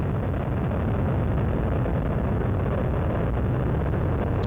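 Space Shuttle Columbia's three liquid-fuel main engines during the STS-109 night launch: a steady, loud, dense roar that holds unbroken throughout.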